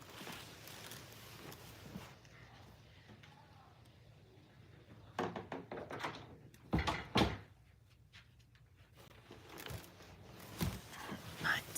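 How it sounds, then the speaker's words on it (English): A door pushed shut indoors: a couple of quiet scrapes, then sharp knocking thuds and a firm latch click midway, followed by smaller clatters, with a faint room hush between. "let me close this door"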